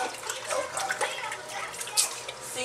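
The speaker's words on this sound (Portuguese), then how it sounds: "Ela já tirou a escama e agora tá lavando com limão." Water splashes and runs as a croaker fish is washed with water and lime in a home kitchen, a close, uneven rinsing sound in short bursts.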